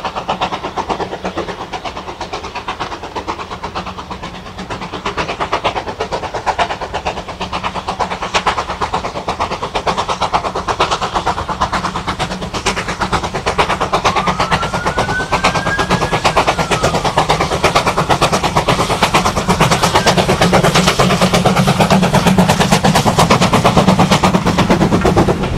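A steam train rumbles past Corfe Common at length, wheels clattering rapidly and steadily over the rails, loud and close, with the noise building as it continues.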